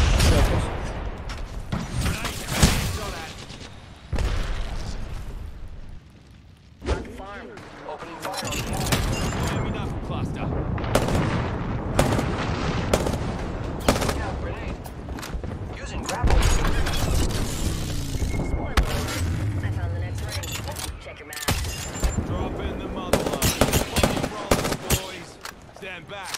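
Intense video game battle gunfire from enemies, rapid automatic bursts and single shots crackling loud and close with booming impacts, nearly continuous with brief lulls, while a player talks over it.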